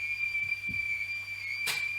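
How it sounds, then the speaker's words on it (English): A single sustained, high, steady whistling tone runs through the whole stretch, with a few faint soft knocks beneath it and no talk. "The whistling sounds."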